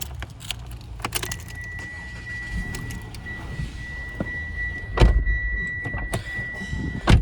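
A 2017 Mitsubishi Outlander seven-seater: keys jangle inside the cabin as a steady warning chime sounds, then the engine cranks and catches with a low rumble, followed by more key and interior clatter.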